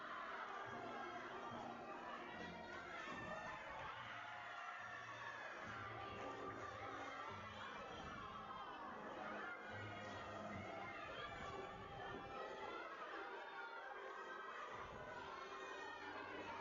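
Crowd at a college gymnastics tri-meet cheering and shouting, a steady dense roar of many voices with youthful shrieks that persists loudly throughout without pause.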